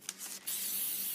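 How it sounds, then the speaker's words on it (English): An edible color mist spray is aimed at an ice cream cake cone, giving two short puffs followed by a steady, close, sharp aerosol hiss. "So we're just spraying our ice cream cone down with this color spray mist that I found"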